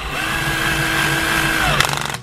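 A power drill whirs steadily for a couple of seconds tightening a skateboard wheel, its motor pitch holding then dropping as it winds down with a few rattling clicks.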